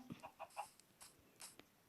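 Faint, soft clucking from a Minecraft chicken, several short clucks in an uneven rhythm, sounding small and distant against quiet background noise.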